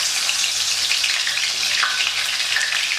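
Crushed garlic cloves, skins still on, fry in hot oil with a dense, steady sizzle, close and loud throughout.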